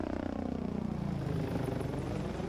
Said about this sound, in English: The propeller is what's making the noise there. It sounds like an airplane.